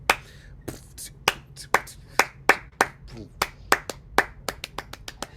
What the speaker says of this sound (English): the way we clap is not even just on 2 and 4